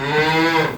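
A dairy cow lets out a single loud, close, sustained moo that tails off near the end.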